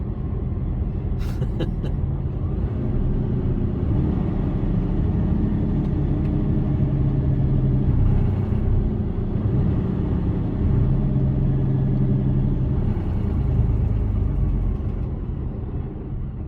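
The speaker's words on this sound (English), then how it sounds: "So this is me braking now." Inside the cab of a Mercedes Actros HGV truck as it brakes: a steady low engine and road rumble with faint rattles and hisses, continuous and fairly loud throughout.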